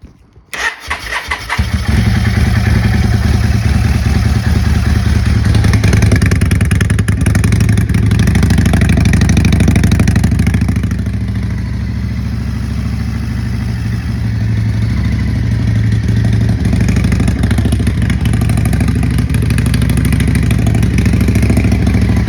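Yamaha motorcycle engine starting and running on choke, catching quickly then holding a loud, close, steady idle with a throbbing low rumble that eases slightly midway, no talking.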